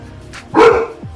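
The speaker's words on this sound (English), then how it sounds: "That'd be like kind of like the final bark." A single dog bark rings out nearby, loud and sharp, with a brief yelp-like tail after it, heard alone and without talk.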